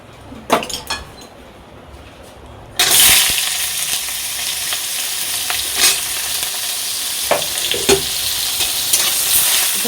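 Brinjal pieces with salt and turmeric hit a hot kadai and burst into loud, continuous close-up sizzling, preceded by a few clinks and taps and followed by spatula scrapes and stirring.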